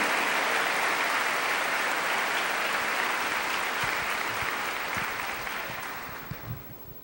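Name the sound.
audience applause in church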